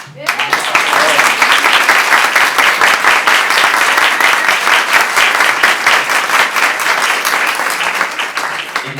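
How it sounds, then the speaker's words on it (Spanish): Sustained applause from a live audience at a summer-afternoon talk fills the space, dense and loud from start to finish, then thins slightly in the final second. "lo mejor de todo es que se escuche el aplauso de toda la gente que ha venido a verte"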